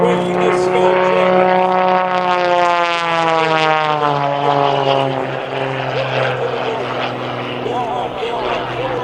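Propeller aerobatic airplane flown by Bill Stein at the Dayton Air Show, a loud engine drone with strong harmonics that slides downward in pitch as it passes close and recedes, with an announcer talking over it.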